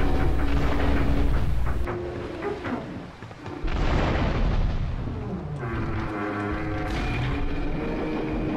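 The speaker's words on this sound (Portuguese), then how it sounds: "Explodiu o navio" A ship blowing up in GTA 3, a heavy explosion with rumbling booms and crashing bursts that swell, dip and return over several seconds, loud and close, with no talk.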